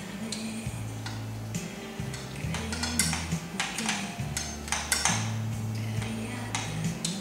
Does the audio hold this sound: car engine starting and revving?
no